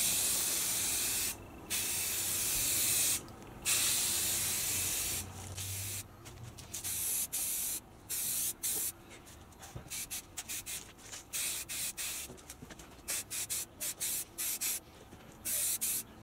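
Spray paint hisses from a can onto plastic parts of a Virago 250 motorcycle in close, sharp bursts: a few longer sprays at first, then a rapid, irregular run of short puffs.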